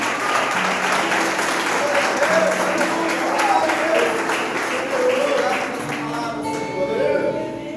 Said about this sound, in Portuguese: bate palmas bem forte para o Senhor Jesus